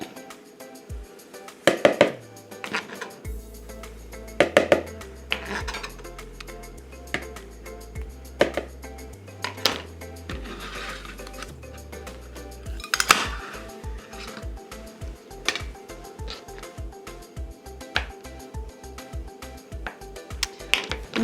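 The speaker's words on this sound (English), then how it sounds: "I guess it's just called an egg slicer" Boiled eggs are sliced with an egg slicer for potato salad. Sharp clicks and clacks of the slicer and a few knocks against dishes are spread through, over a low steady hum.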